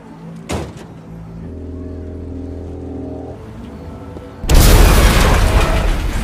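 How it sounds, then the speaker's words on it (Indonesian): A sudden loud explosion in a film scene bursts in after a stretch of quieter ambience and tonal background hum, its broad roaring blast sustaining and rumbling near and heavy. "Tiba-tiba saja terdengar bunyi ledakan."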